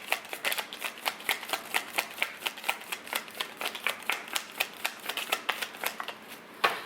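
A deck of tarot cards is shuffled by hand in a quick, steady run of soft papery riffles and slaps, close up and moderately quiet, with no talking.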